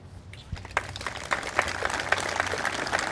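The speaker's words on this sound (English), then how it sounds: "would you please raise your hand and take a round of applause?" An audience applauds board members and volunteers at a veterans monument event in Peachtree Corners, the clapping building from scattered claps into a steady, moderately loud round that continues to the end.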